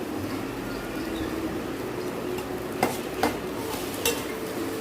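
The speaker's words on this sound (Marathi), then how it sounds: "आता मसाला जरा परतून घेऊया" Turmeric, coriander, chili powder and garam masala are sautéed in oil for patwadi bhaji. A dense, steady sizzle is punctuated by three or four crisp utensil taps against the pan near the end, and no speech is heard.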